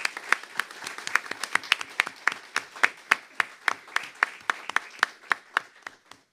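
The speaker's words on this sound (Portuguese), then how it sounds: "queremos pedir um aplauso a todos esses que aqui estão, nos honrando com a presença de todos" Applause for guests at a lecture hall event on autism, a thin scattering of distinct claps with a few people clapping in a loose, fairly regular rhythm, crisp and close, fading slightly toward the end.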